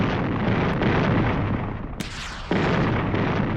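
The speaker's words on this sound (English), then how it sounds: "The Healy's cannons blast away into the enemy craft." Spaceship cannons in an audio drama pound the enemy craft with a dense, loud, continuous barrage of booming blasts, a brief dip midway before the roaring fire resumes at full force.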